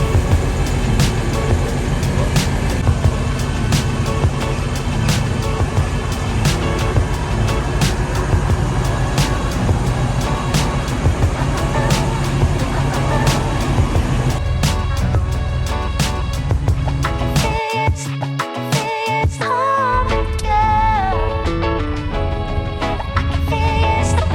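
A rental car drives out of Selçuk, Turkey, with a continuous engine and road rumble throughout and a brief dip in the noise near the end; no one speaks.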